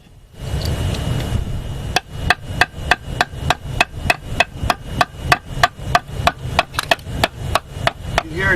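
Hammer tapping a concrete block in quick, steady strikes, loud and close, the ringing tone of each hit shifting as the work goes on, after a stretch of low rumbling noise at the start.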